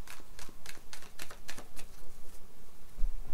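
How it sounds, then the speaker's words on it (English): Gateway to the Divine tarot cards riffle-shuffled by hand, a quick rapid patter of crisp snaps that builds and fades in short bursts, close by and with no talking. "When I got done shuffling the Gateway to the Divine Tarot"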